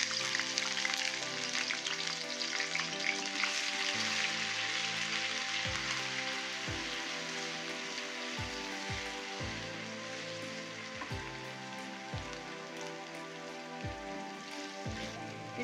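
Garlic frying in oil in a karahi: a continuous, loud crackling sizzle throughout, with a steady pitched tone underneath that shifts in stepped patterns.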